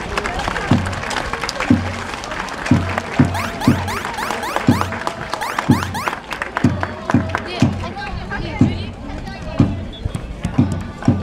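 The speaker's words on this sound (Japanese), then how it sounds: "皆様盛大な拍手をお願いいたします。" Crowd applause and cheering at a kick-in ceremony for a Vialattea Miyazaki match, mixed with loud, rhythmic drum beats repeating steadily throughout, with voices in the background.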